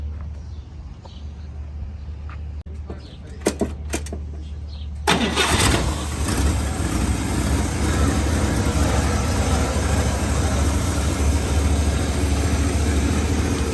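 A 1956 Chevrolet 210 wagon with California patina cranks with a few short bursts before catching, then its engine settles into a steady, full idle that runs on close and loud.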